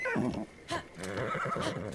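A horse whinnies in a fantasy adventure game, a loud close neigh with a few shorter snorting calls after it, no talk over it.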